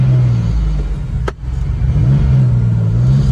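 Turbocharged Acura Legend with a touchy twin-disc clutch, engine droning and revving steadily at close range as the car pulls off, with a brief dip in the middle.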